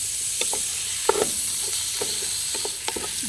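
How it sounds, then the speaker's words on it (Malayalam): Soaked rice frying in a pan with onions for a prawn biryani, with a continuous sizzle and irregular scraping stirs of a spoon, close and fairly steady, with no talking. "എന്നിട്ട് ഇതിൽ കുറച്ച് നേരം നമ്മളിത് വറക്കണം"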